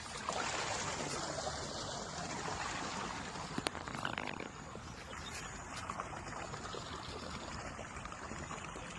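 Water flows steadily in a stream at a garden spot, a continuous broadband rush that holds at an even level throughout, with no talk over it.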